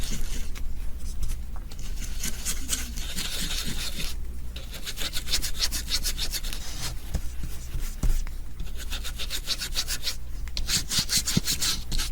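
Close, rhythmic scratchy strokes of a worn paintbrush scrubbing acrylic paint onto canvas, dry rasping back-and-forth passes repeating steadily with brief pauses between bursts, no voices.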